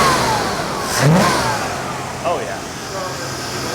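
A 1993 Chevy Caprice engine, freshly tuned up with a new EGR valve and fuel filter, blips up in a quick rev and settles back toward idle, close and moderately loud, with a brief spoken exclamation.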